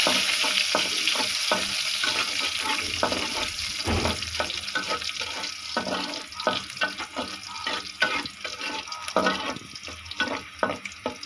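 Leafy greens fry in a pan with plenty of garlic, a steady close sizzle broken by repeated clattering scrapes and knocks from stirring, with no voices.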